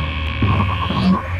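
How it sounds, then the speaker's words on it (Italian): A heavy, steady electronic hum pulses with low throbbing swells in a science-fiction animated film scene of strong signal interference, continuous and fairly loud with no voices. "Dottor Proton, c'è una fortissima interferenza."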